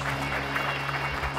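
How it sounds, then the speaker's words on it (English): An audience at a Santa Clara tech conference gives brief applause, a steady wash of clapping over a low room hum. "How about a round of applause for the Global System Integrators?"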